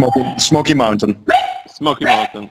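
A dog barks a few times in short bursts close by, mixed in with steady talking during an outdoor barbecue gathering.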